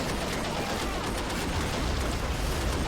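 Tank gunfire in the battle-simulator video game Army Men Of War, a sustained, dense burst of rapid shots and rumbling fire filling the whole moment at steady loudness.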